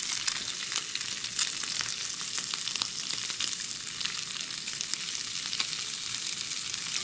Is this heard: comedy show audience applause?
no